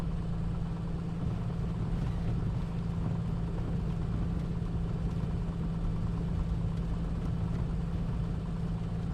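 Engine of the A2A Comanche aircraft in a flight simulator game, a steady low droning rumble with a constant hum, even and unbroken throughout with no voices.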